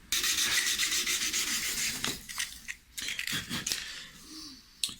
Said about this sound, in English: I may do a little more of the sanding that I'm doing now